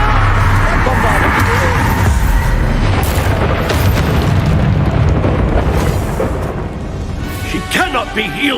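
Bombarda spell explosion in the video game Hogwarts Legacy, a loud booming blast with rumbling debris that fills the clip, followed by lighter crackling and magical whooshes as the roar fades.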